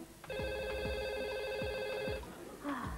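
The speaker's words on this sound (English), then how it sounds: "His phone's ringing." An electronic phone ringtone trills steadily for about two seconds, with soft low thumps beneath it, then cuts off into quiet room noise.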